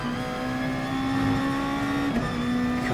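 Race car engine in Gran Turismo Sport on the Brands Hatch circuit, a steady loud sustained drone with a rising pitch and a brief shift or lift near the end, heard alone without talk.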